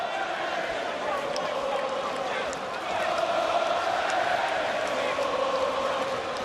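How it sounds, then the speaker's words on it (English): Arena crowd at a heavyweight boxing bout between Joseph Parker and Derek Chisora, a steady dense roar of cheering and murmur filling the hall, swelling slightly midway, with a commentator's voice running over it. "And listen to this crowd once again."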